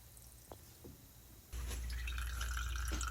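Water drains out of a Whirlpool/Amana washer pump into a bucket, with a couple of faint drips giving way to a steady, louder splashing flow that continues to the end.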